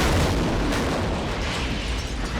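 A car's gas tank explodes on an open range, giving a loud, sustained broadband roar that stays dense and powerful throughout with no clear pauses.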